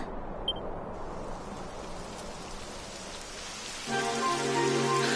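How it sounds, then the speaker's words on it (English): Steady rain falls in the Dragon Quest XI video game, a dense even hiss of drops that swells louder near the end as a low musical drone and soft tones join underneath. "It would have to go and start raining, wouldn't it?"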